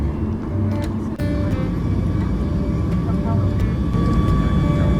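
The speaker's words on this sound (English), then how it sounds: "As the flight started to take off" A jet airliner roars steadily during its takeoff run from Maui, and the heavy engine rumble stays loud throughout.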